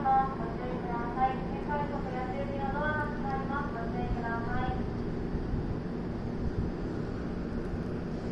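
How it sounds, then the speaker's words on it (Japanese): A JR Special Rapid electric train bound for Osaka pulls away from platform 3 at Kakogawa Station with a whining motor tone over a steady rumble, while a voice talks over it. "3番乗り場から新快速電車大阪行き発車いたします。"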